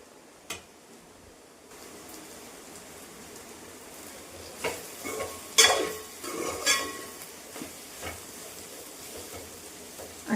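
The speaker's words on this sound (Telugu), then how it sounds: "సిమ్లో పెట్టి వేయించుకుంటే మసాలాలన్నీ బెండకాయ బాగా పడతాయండి." Okra frying with masala in a pan on low heat gives a soft continuous sizzle, broken by intermittent stirring scrapes and clinks of a spoon against the pan, close-up with no voices.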